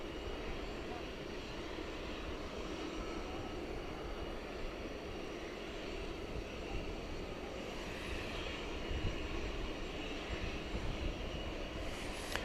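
An Airbus A321 jet taxis at DFW Airport at night, its engines producing a steady, distant broadband roar that swells slightly toward the end.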